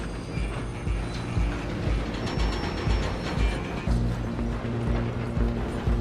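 A steam-era train rumbles along in the Western video game Red Dead Redemption 2, with a steady, rhythmic clatter of wheels and heavy mechanical churning that runs loud and continuous throughout.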